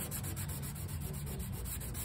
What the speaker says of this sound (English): we are just going to start sanding this